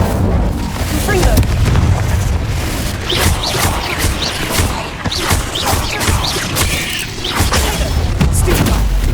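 Confringo explosion spells burst repeatedly in Hogwarts Legacy combat, a loud, dense run of booms and crashes over a rumbling low background.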